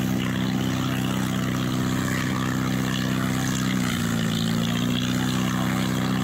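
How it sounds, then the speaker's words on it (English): A homemade propeller aircraft taxiing to the runway, its engine droning steadily at a distance with a constant low hum and a slight pitch shift partway through. "So we'll sit back and just see what happens as he taxis up to the runway."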